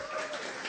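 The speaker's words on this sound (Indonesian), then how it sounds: "Tepuk tangan." University students from Universitas Bunda Mulia, in a crowd of about 5,000 at an Indonesian stand-up comedy show, clap in a brief burst of applause, with a voice talking over it.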